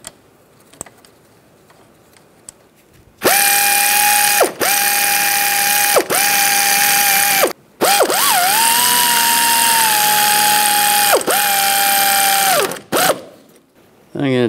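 A ratchet clicks steadily in several long bursts with brief pauses, tightening the rear brake caliper bracket bolts on a 2007-2010 Mini Cooper during a brake rotor and pad replacement, loud and close in a quiet workspace.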